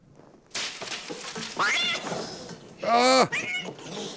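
A cat meows and yowls several times, loud and close, with drawn-out wavering cries and a few bumps between them.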